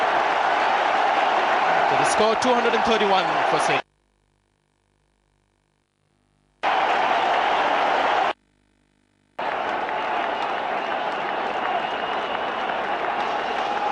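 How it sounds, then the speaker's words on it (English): A cricket crowd roaring and applauding after a run out in a test match, a dense sustained cheer broken by two abrupt silences, with a commentator speaking over it. "the death signal for Flintoff given, and the crowd ecstatic"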